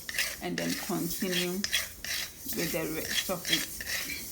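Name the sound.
pot and spoon noise while stirring gari on the fire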